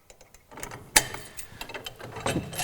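Ratcheting rim clamp on a drum lifter dispenser being adjusted for height, a series of quiet mechanical clicks and clacks with one sharp metallic snap near the start, close by.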